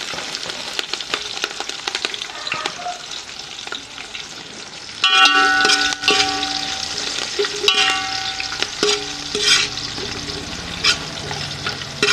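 Onion pieces and green chillies fry in oil with bay leaves and spices for a biryani, sizzling loudly up close while a spoon scrapes and stirs the pan, the frying swelling sharply halfway through.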